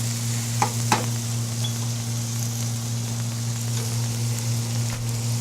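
Food frying hard in a pan over high heat until browned, a steady close sizzle with a couple of sharp stirring clicks early on and no talking.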